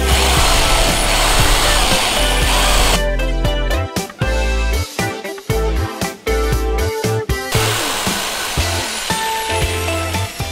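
A Dnipro-M drill fitted with a long bit bores through wood, a loud continuous whirring grind with brief stops and restarts partway through, running alone without speech.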